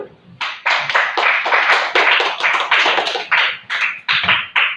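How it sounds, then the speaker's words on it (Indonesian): A classroom group applauds in a burst of close, uneven hand claps that swell and fade in waves over several seconds. "Oke, tepuk tangan buat tadi dulu."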